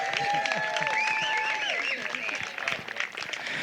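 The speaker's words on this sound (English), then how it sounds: "Big round of applause for Ashley" Wedding reception guests clap in a burst of applause under layered crowd chatter and voices, fading slightly toward the end.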